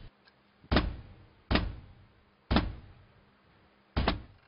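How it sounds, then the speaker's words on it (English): Four loud, heavy thuds at spaced, uneven intervals, each with a short decaying tail, as a cricket bat strikes a wooden toilet door in a bathroom; no talking. "he picked up a cricket bat and then returned to the bathroom to break the toilet door down"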